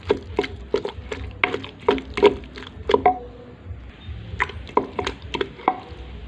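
Curry paste pounded by hand in a stone mortar without its usual stand, a wobbling mortar giving repeated wet, squishing thuds in an uneven rhythm, close and moderately loud, with a brief pause midway.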